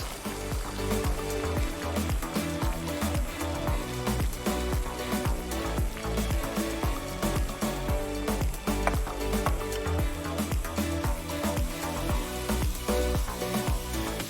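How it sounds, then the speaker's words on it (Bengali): Shredded cabbage dropped into hot oil with green chilli paste, sizzling and frying steadily and loudly throughout, with dense crackle and stirring clatter in a home-style kitchen. "এইবার আমি বাঁধাকপিটা দিয়ে দিচ্ছি"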